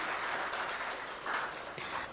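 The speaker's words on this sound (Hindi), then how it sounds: "आप इस बात के लिए ताली बजा सकते हैं।" An audience at a national media conference applauds with a dense patter of clapping that swells and fades in waves, fairly close, with no speech over it.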